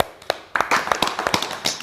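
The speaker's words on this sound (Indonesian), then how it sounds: "Tepuk tangan buat Dava." A few people clap their hands during a relaxed chat among new organization officers, a loose, uneven scatter of crisp, close claps with quiet gaps between them.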